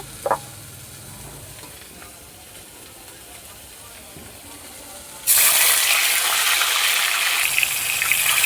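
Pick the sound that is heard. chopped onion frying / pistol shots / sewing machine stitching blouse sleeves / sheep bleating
chopped onion frying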